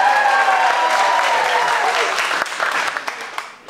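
An audience applauds and cheers for a child at a comedy magic show, a dense burst of clapping with some voices that thins toward the end.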